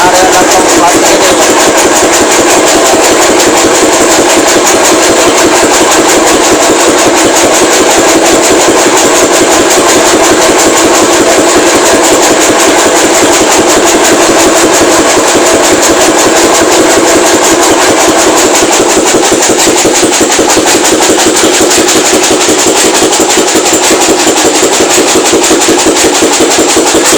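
A meat grinding machine runs steadily for making meatball dough, a loud continuous mechanical drone and whine that holds without pause throughout.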